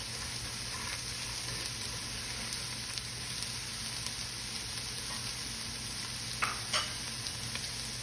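Onions frying in oil for keto Chinese fried rice: a steady, close hiss of sizzling fat runs the whole time, broken by a couple of brief clinks of a stirring utensil near the end.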